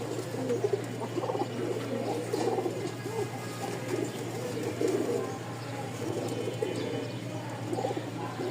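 A group of pigeons kept for sale at a loft in Mirpur coos repeatedly in low, overlapping murmurs over a steady hum, with occasional faint chirps.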